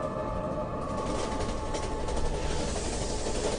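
A train rumbles steadily at a railway station, a continuous dense roar of wheels and carriage noise that holds at an even level throughout, with no voices.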